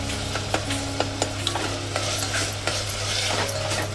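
Tomatoes with ginger-garlic paste are stirred and sautéed in a pan, with a steady soft sizzle under repeated scraping taps of a spoon against the pan, close up and without talk.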